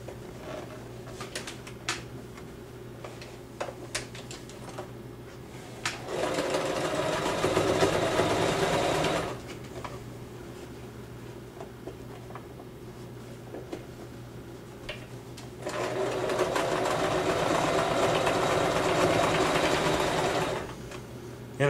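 Sewing machine stitching a seam on a homemade puppet, running in two loud sustained bursts of rapid mechanical whirring and clatter, each several seconds long, separated by quieter hum and small handling noises.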